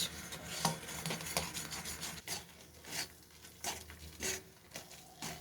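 Whole cardamom pods in milk being stirred in a cooking pot for kheer, giving soft, repeated scraping and swishing strokes at close range, in a steady rhythm with brief pauses.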